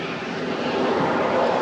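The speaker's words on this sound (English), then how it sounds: "those water trucks" A water truck engine passes with a broad, steady roaring drone that swells slightly as it nears, heard alone without talk.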